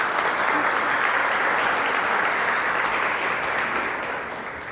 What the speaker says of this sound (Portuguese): Dá um aplauso a Jesus para a gente poder continuar.